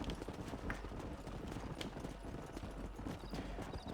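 Hooves pound continuously while a horse is ridden in Red Dead Redemption, a dense, rapid galloping clatter over dirt with a wash of ambient noise, steady and mid-level throughout.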